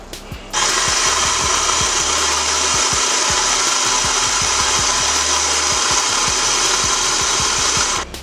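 Food processor grinding hummus while olive oil is added, a loud, steady whirring roar that starts suddenly after a brief quieter moment, with rhythmic low knocks running through it before it stops.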